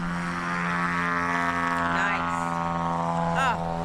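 A propeller airplane takes off at an EAA land-and-takeoff competition, its steady engine drone loud and sustained throughout, rising slightly near the end.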